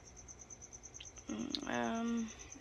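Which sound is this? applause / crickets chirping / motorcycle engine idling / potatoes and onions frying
crickets chirping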